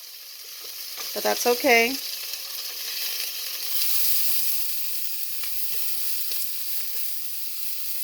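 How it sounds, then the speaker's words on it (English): Vegetables hit about two tablespoons of hot vegetable oil in a pan over medium-high heat, giving a steady loud sizzle and frying hiss throughout, with a short spoken phrase near the start. "I better go ahead and throw the veggies in. But I just have about 2 tablespoons of oil, vegetable oil. It's going to make a lot of sizzle,"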